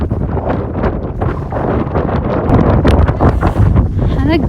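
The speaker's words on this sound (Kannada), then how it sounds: "ಅಂದರೆ ಗಾಳಿ ಗಾಳಿ ಗಾಳಿ" Strong wind gusting over an open village field buffets the microphone with loud, continuous rumbling roar that builds toward the end, with faint voices mixed in underneath.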